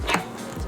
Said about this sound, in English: Jimmy, what you barking at?